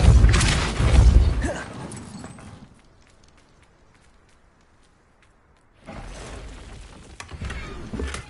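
A Confringo explosion spell bursts loudly at the start in Hogwarts Legacy, followed by a fading rumble and near silence, then renewed impacts and clatter a few seconds later.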